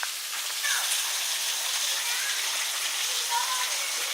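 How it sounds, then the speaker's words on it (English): A waterfall along a forest path, heard up close as a loud, steady high hiss of falling water with a few faint whistles or calls over it. "There's the waterfall."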